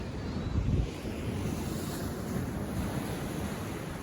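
Sea waves wash and roar steadily nearby on the Yorkshire coast below cliffs, mixed with gusty wind buffeting the microphone.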